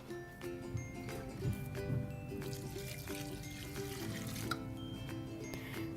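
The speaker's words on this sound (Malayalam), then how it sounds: "ഇതിലോട്ട് ആവശ്യത്തിന് വെള്ളം ഒഴിച്ചു കൊടുക്കാം" Water poured into a pot of jackfruit pieces for boiling: a faint, steady trickle and splash that runs continuously and quietly throughout.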